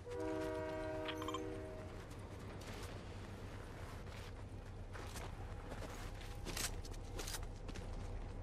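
A train in the Fortnite video game rolls by with a chord-like horn blast at the start, followed by steady rumbling and creaking mechanical clatter, fairly quiet throughout.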